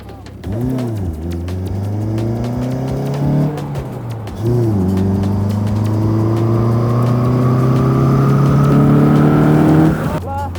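A car pulls away from a standstill on the Top Gear test track, its engine revving up through rising, droning gears with a brief dip and shift midway, loud and close, with people talking over it.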